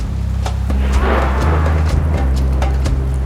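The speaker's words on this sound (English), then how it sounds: "Crazy thunder today." Loud, continuous low rumbling of thunder on a stormy day near Oslo, a deep rolling roar that swells and fades throughout without any talk.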